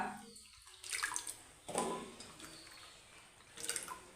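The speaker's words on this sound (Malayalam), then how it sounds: "നമുക്കിനി ഇത് കഴുകിയെടുക്കാം രണ്ട് വെള്ളമെങ്കിലും കഴുകണം" Chopped breadfruit pieces being washed by hand in a basin of water, with soft splashing and sloshing in a few separate bursts, close by and moderately quiet.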